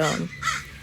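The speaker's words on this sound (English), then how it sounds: "and then there's also a crow in this tree just" A crow caws from a tree in a park beside a school, two close, harsh calls about half a second apart, with faint background voices.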